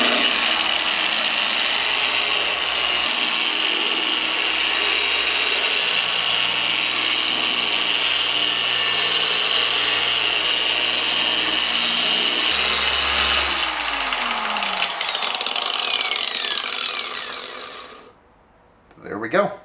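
An Adam's Polishes Swirl Killer machine polisher whirs continuously at close range during car paint correction, holding a steady drone for most of the time before winding down near the end.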